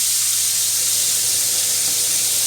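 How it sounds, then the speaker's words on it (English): Pork cooking in a hot pan, a loud, steady close sizzle with a dense hiss and no talking. "Ooh, that's sizzling."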